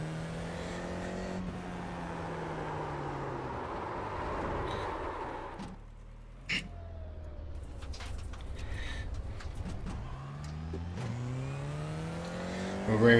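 Race car engines in a Formula 4 racing video game at Okayama, engine tones climbing and dropping through gear changes, fading and then returning with rising revs, alongside quieter background cars.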